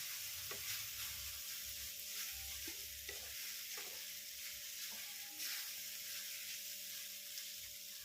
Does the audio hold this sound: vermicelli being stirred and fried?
yes